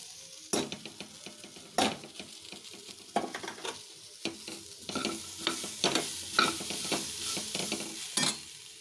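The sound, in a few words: stirring roasted spice powder and coconut into groundnut sundal in a pan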